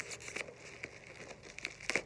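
Plastic packaging wrapped around a mug being pulled open and unwrapped, with soft crinkling and a few sharper crackles and tearing bursts, close and fairly quiet, no talking.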